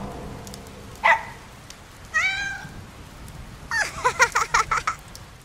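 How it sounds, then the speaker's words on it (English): Cartoon cat meows sound in a kids' educational video game, a short meow, then a drawn-out wavering one, then a rapid string of meows, over a steady rain-like background. "A kitten is a baby cat and is very, very cute."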